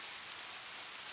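Steady rain falling on a porch, a continuous even hiss of drops on the surface with no breaks, soft and close, with no voices.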